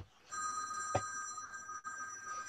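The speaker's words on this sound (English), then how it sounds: "It's ringing on my phone." A phone rings with a steady electronic tone that starts after a brief quiet moment and continues unbroken, fairly clear over faint background noise, with a short click partway through.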